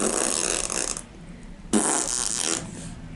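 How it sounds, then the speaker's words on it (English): Two bursts of broadband flatulence, a longer one then a second after a short pause, close and fairly loud with no talking. "Oh, look, he's farting at the doctor."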